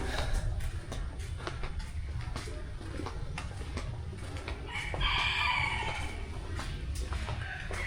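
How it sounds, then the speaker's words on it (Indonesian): Chickens roam the back garden of Soekarno's old house, a rooster crowing loudly midway with clucking around it over a low background rumble. "Terus sekarang juga masih berkeliaran semacam ayam kayak gitu."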